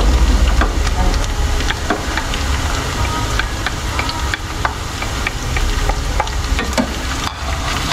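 Onions hit a hot pan and fry with a loud, dense sizzle and crackle, steady from start to finish with scattered pops and stirring scrapes.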